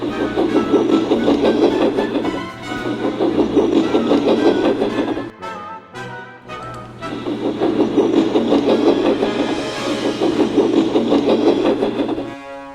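Toy train engines run along a track in a loud, continuous rattling clatter that briefly stops for about a second midway, then resumes.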